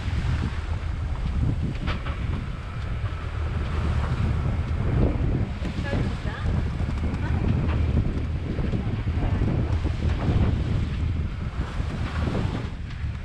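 Steady wind roar and rushing sea swell on a sailboat under way off a French Polynesian island, a continuous broadband wash with low rumble and gusting texture throughout, loud and close to the microphone.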